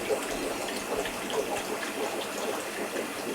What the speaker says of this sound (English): I think I'm gonna have to go run her under some water.